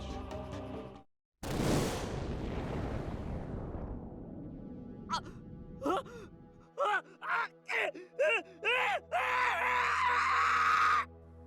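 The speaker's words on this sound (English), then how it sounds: "A scream burst from my throat" A scream in the Chaos;Child visual novel: a sharp noise burst, then a series of short, strained, rising vocal cries that end in a sustained shrill wail.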